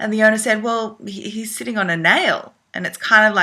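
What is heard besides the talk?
No everyday noises stand out.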